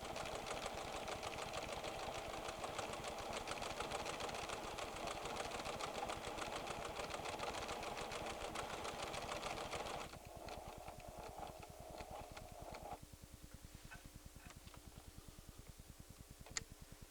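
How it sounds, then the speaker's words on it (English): A PFAFF creative 7550 sewing machine embroiders with gold metallic thread on black fabric, running in a fast, steady mechanical rattle that shifts to a slower, sparser ticking stitch partway through, faint and alone. "Remember to sew slowly when using metallic threads"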